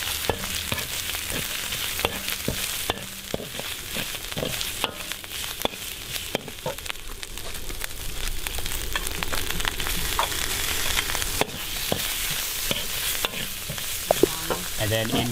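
Coriander sizzles as it drops into a hot frying pan, a steady crackling hiss with scattered sharp pops and stirring scrapes running the whole time, loud and close with no voices.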